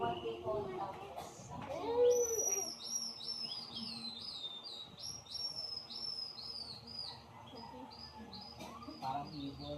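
Members of a Palawan tribe imitate bird calls to lure prey, producing a string of quick, high, chirping whistles in repeated bursts, with a low voice speaking briefly early on over a faint, quiet natural background.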